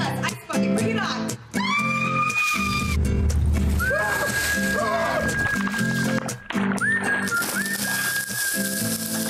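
A bucket of ice water is dumped over someone's head for the ALS Ice Bucket Challenge, giving sloshing, splashing bursts over music with voices around.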